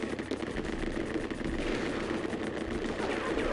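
Enemy gunfire in Rise of the Triad from 1995 forms a dense, continuous roar of rapid shooting, loud and unbroken throughout, with no speech.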